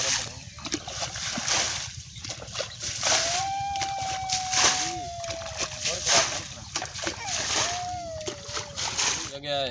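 Water from buckets is poured over garlic beds in an outdoor garden, producing sloshing splashes and trickling water throughout, while someone talks over it.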